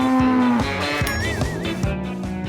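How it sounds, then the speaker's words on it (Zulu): A cow moos in a long, loud, drawn-out call that rises and falls, filling the short span close to the listener with no talk over it. "Inkomo yangempela."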